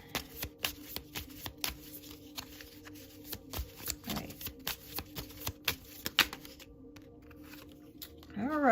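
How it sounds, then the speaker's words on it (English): Tarot cards are shuffled by hand in rapid, riffling bursts close to the microphone, a rhythmic run of crisp flicks and taps that stops near the end, followed by a brief tonal sound. "so we're going to shuffle again"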